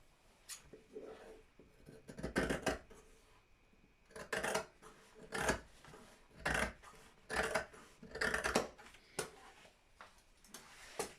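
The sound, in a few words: scissors cutting fabric for a skirt piece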